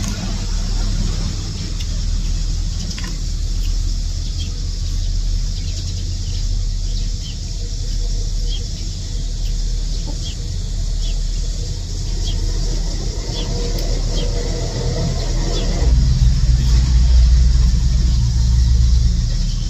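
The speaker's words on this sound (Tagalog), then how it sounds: "Kung maririnig nyo guys, marami nang nadaan at sasakyan" Vehicles passing on a main highway at night, a constant close traffic rumble and whoosh that swells louder near the end, with faint bird or rooster calls mixed in.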